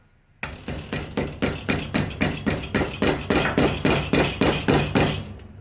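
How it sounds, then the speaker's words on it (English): Metal hammer or mallet blows ring out against a Damascus chef knife, about fifteen sharp evenly spaced strikes, close and clear, with no talking. "So when I hit it with the hammer,"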